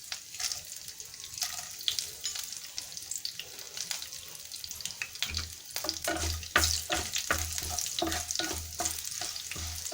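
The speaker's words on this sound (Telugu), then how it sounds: "ఇప్పుడు మనం ఫస్ట్ ఎండుమిరపకాయలు, ఆవాలు, జీలకర్ర వేసేసేద్దాము" Dried red chillies, mustard seeds and cumin hit hot oil in a pan for aloo curry, giving a steady hiss and crackle that turns into rhythmic, repeated stirring scrapes in the second half.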